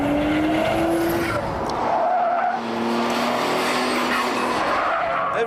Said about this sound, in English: Every gear change sounds like two Darth Vaders shouting at one another